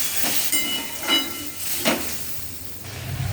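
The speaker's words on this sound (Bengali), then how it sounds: "আমার ডালটা ফুটে যাচ্ছে" Masoor lentil dal cooked with capsicum boiling in a pot, giving a steady hiss with soft bubbling bursts, fairly close and with no voices.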